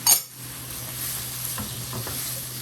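Sliced poblano, orange and red peppers sizzle steadily in a hot pan for a Pad Thai with vegetables, chicken and egg, with a sharp initial crackle as they hit the oil, then a continuous close fry and a few stirring scrapes, no talk.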